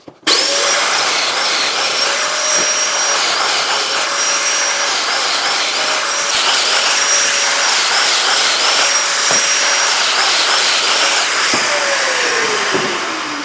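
Domino joiner cutting 28 millimeter deep slots in wood pieces, a continuous loud high motor whine with repeated plunges that briefly shift its pitch.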